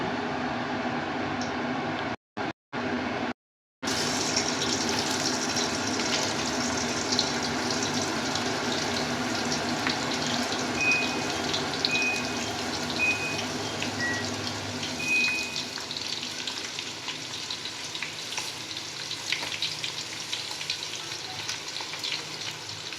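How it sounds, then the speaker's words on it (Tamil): Sliced onions dropped into hot oil already holding cinnamon, cloves and cardamom for mutton biryani, producing a steady close frying sizzle with a few brief gaps early on, then continuous crackling throughout. "இப்போ வந்து நம்ம ஆனியன் போடுறோம்."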